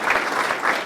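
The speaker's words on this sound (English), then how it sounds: "Let's give him a round of applause." A brief burst of audience applause with dense, steady clapping for under a second, close and fairly loud, with no talk over it.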